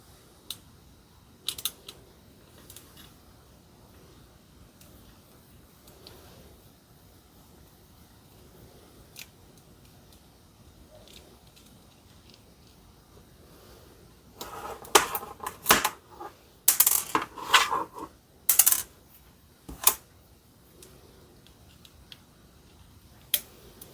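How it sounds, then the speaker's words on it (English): Small screws being worked out of a power inverter, mostly quiet handling at first, then a burst of close, sharp clicks, ticks and metallic taps near the end. "Now I can get my little screws out."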